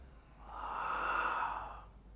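A single long, slow breath during a power yoga class, rising and fading smoothly over about two seconds, close and clear above a low steady hum.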